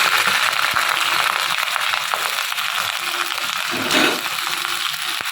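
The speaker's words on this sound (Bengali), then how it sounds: "এই তেলের মধ্যে আমি কিছুটা পেঁয়াজ দিয়ে দিলাম" Onions sizzling and crackling steadily in hot oil in a pan after fried onion slices were lifted out, a dense close hiss running throughout with a brief stir near the end.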